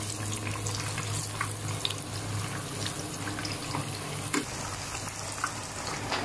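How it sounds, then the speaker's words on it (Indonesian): Tempeh slices fry in a pan with a steady close sizzle and crackle, with occasional clinks and stirring knocks, and a faint running-water hiss beneath; no one speaks. "Sekarang kita lagi goreng tempe."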